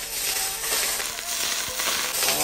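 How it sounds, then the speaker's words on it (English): Hot oil poured over a whole steamed fish with black bean sauce sizzles and crackles loudly and continuously, a bright hiss with small popping bursts, close to the listener. "You're going to want to hear this sizzle."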